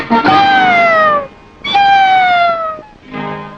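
A cat meows three times in a Telugu film scene, each call loud, close and drawn out with a falling pitch, the last one softer and shorter.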